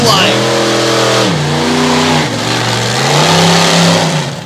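A drag racing car with a big 575 cubic inch Hemi engine launching and pulling hard, its loud roar climbing and shifting in pitch as it accelerates, with an announcer talking over it.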